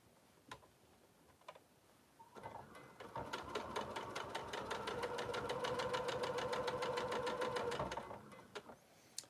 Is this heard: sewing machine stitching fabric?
yes